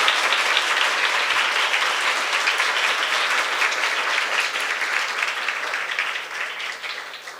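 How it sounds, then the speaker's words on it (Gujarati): Sustained applause from a school audience at a foundation-day celebration honoring a teacher, a dense, even roar of clapping that slowly fades toward the end. "બેન માટે ખાસ તાળીઓ પાડો"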